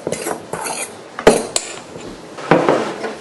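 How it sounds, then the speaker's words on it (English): A utensil clinks and scrapes against a bowl while dry ingredients for hard tack are mixed, in a few separate bursts of clattering strokes. "Mix the dry ingredients together"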